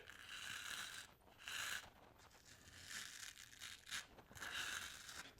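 A card scrapes across freshly shaved facial stubble in several faint, rasping strokes with short pauses between them, heard up close in a quiet room.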